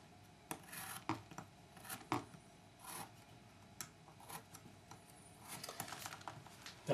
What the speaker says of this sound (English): After you've made all the cuts down one side, turn your work, go back up to the corners,